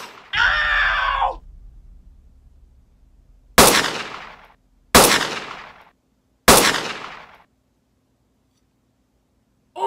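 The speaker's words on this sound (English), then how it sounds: "Now where was I? Oh yeah, bottle gun!" A homemade bottle gun fires three sharp, loud bangs about a second and a half apart, each with a ringing decay. A short shout comes first, and another bang starts at the very end.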